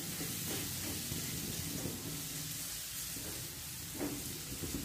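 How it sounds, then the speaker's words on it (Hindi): Shredded cabbage stir-fried in a hot pan for noodles gives a continuous, even sizzling hiss with soft tossing and stirring movements, quiet and close, with no talk. "कैबेज को इसमें पूरी तरह हमें नहीं पकाना है, सिर्फ इसको थोड़ा सा फ्राई करना है।"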